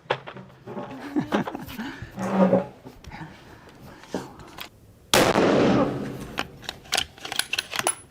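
A loud rifle shot at an outdoor shooting range, one sharp broadband blast with a ringing tail, after a stretch of quieter handling noise and faint voices; later, people talk and move near the microphone.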